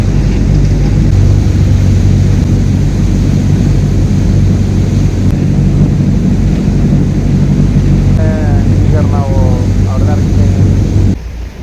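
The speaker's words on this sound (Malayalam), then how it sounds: "ഫ്ലൈറ്റ് പോണേ." An airplane passing overhead gives a low, continuous rumbling drone that fills the clip at steady loudness. Brief voices rise near the end.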